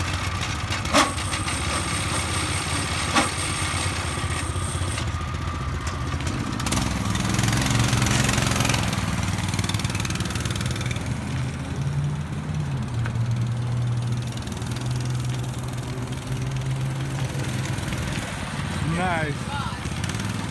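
A motorized bar stool with a faulty clutch runs at a steady, rough small-engine idle, with a brief revving swell partway through. Voices are heard faintly in the background.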